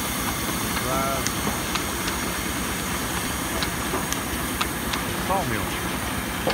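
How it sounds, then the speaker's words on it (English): An engine-driven sawmill at a Florida Flywheelers antique engine show runs continuously, a dense mechanical drone with hiss and faint rhythmic clanks, while someone talks over it. "Sawmill."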